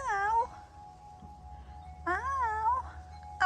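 A black cat meows loudly and close by, a long drawn-out meow, a second wavering one after a pause and a short cut-off cry at the end, over faint low background hum.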